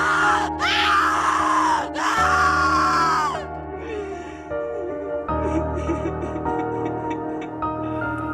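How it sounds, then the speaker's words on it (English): A woman's anguished, high-pitched scream rises and breaks off twice, followed by lower drawn-out moans and cries with a sustained tonal hum beneath. "Her screaming and crying and begging for the pain to go away"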